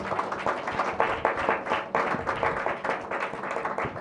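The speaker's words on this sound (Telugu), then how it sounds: "ఒకసారి గట్టిగా చప్పట్లు కొట్టి దేవుని ప్రైజ్" A church congregation claps loudly in praise, a bright burst of many hands in uneven rhythm with repeated swells, moderately close.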